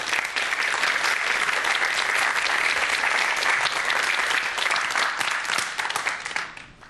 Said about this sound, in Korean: 큰 박수로 강연 청해 듣겠습니다.